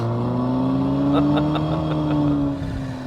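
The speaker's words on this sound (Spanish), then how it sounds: "No hay ninguna moto, es una simulación de sonido de motor." A steady simulated engine drone played through a car's speakers, smooth with a slightly rising pitch, like a motor revving gently, close and continuous before easing off near the end.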